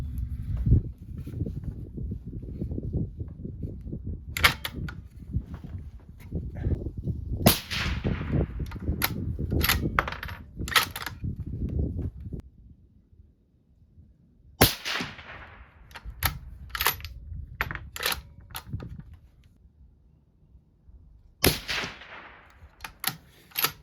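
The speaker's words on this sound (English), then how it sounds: "We don't know if it's going to throw us a cold bore shot or not." 6.5 Grendel rifle firing 100gr ELD-VT ammunition outdoors, several sharp loud gunshots spaced irregularly, each followed by a short echo, over a low rumbling background that fades partway through.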